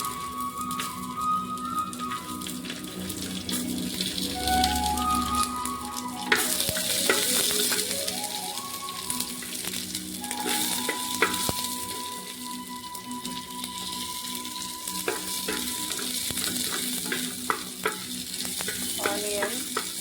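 Onion frying and sizzling in a pan, with steady crackle and occasional stirring scrapes running throughout at close range, no voices.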